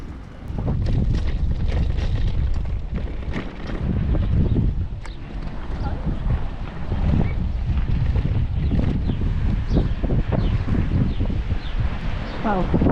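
Wind gusts across the microphone on the open coast at Praia da Falésia beach in Portugal, with a steady buffeting rush that swells and eases. Scattered faint knocks and rustles come through, and no one talks.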